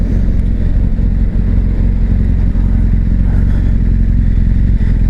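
A 2018 BMW R1200GS Adventure motorcycle engine running close and loud, a steady throbbing rumble with light mechanical clatter, unbroken throughout with no voices.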